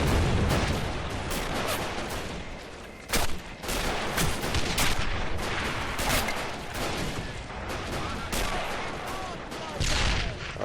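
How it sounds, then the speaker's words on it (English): Rifle and other gunfire in the modded Men of War: Assault Squad 2 war game, rapid overlapping shots and bursts crackling continuously through the battle, with occasional louder sharp reports. "I hear a rifle firing from over here."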